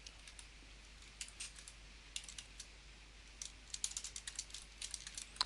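Shift and Enter keys pressed on a computer keyboard, a quiet run of light, irregular key clicks that grows busier toward the end, with no talking.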